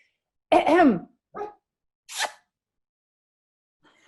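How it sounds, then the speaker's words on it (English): A sleeping dog whimpers and yips while dreaming: one drawn-out, wavering whine followed by a few short, muffled huffs and squeaks, close by in an otherwise quiet room. "My dog is dreaming."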